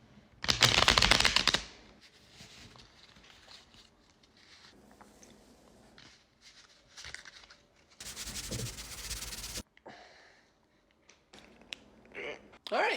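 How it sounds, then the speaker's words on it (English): Playing cards shuffled by hand in two loud bursts of rapid riffling and bridging, with quieter handling sounds and scattered talk in the gaps between. "I just need to shuffle up one more time"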